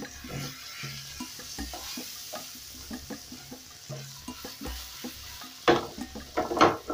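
Chopped onion and garlic sizzle in a pan where fat has just melted, with a steady close crackle broken by repeated stirring scrapes and a couple of louder clattering knocks near the end.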